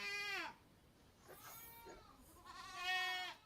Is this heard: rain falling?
no